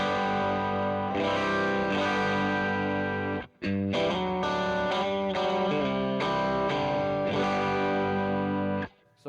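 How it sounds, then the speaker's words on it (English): Electric guitar played through a Soul Food vintage overdrive pedal, lightly broken-up and transparent, with sustained ringing chords and a brief gap before strumming resumes, loud and alone. "Soul Food, which is just kind of a transparent, it's like a vintage overdrive"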